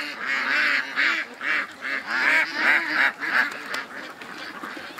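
Ducks in a pen call with a steady run of raspy, honking quacks, several birds overlapping near and loud, in irregular bursts with no pauses.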